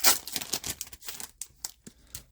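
A Pokémon trading card booster pack's foil wrapper being torn open close up, with a quick series of sharp ripping and crinkling sounds in irregular bursts, no talking.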